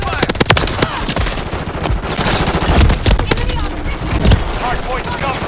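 Dense bursts of automatic gunfire rattle through a Modern Warfare III multiplayer hardpoint match, loud, rapid and overlapping, with voice callouts mixed in.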